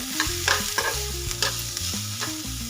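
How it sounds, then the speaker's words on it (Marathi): Green chillies and vegetables are stirred and sautéed in a pan, a close sizzle broken by repeated scraping strokes of a spoon at a steady rhythm, with no one talking. "आणि याचा कच्चेपणा जाईपर्यंत आपल्याला हे परतून घ्यायचंय."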